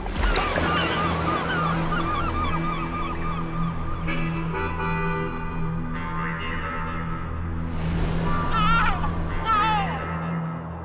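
Chattering birds gather noisily at a river mouth, honking and calling continuously over rushing water, with layered overlapping calls and louder bursts toward the end.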